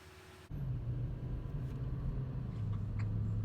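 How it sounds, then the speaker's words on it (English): A 2013 Toyota Sequoia starts moving on a short test drive, its steady low engine and road rumble coming in abruptly after a quiet moment and holding fairly even throughout, with no talking. "Time for a little test drive."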